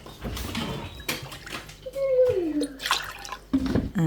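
Distilled water being poured into a jar in a home kitchen, a splashing, gurgling pour with a rising tone as the jar fills, interrupted by a few clicks and knocks.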